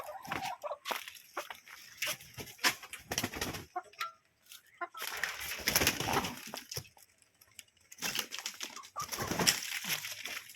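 Chickens being let out of their coop cluck and squawk in bursts close by, mixed with rustling, flapping and scuffing movement, with short quiet gaps between the flurries.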